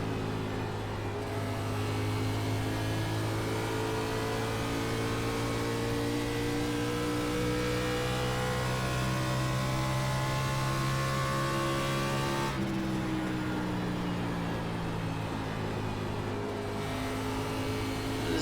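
A stock car engine in the iRacing game at Nashville holds a steady, loud droning note under throttle, its pitch rising and falling gently, then shifting briefly as the throttle is eased and reapplied.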